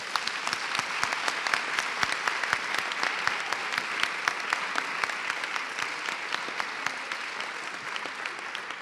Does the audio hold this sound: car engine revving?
no